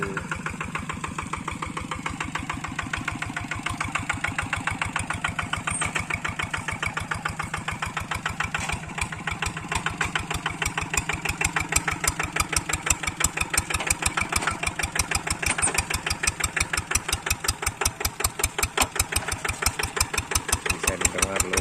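A mid-sized engine on a cultivating machine labors steadily while working hard, thickly grassed ground, its rapid firing pulses continuous and close, growing somewhat louder and rougher toward the end.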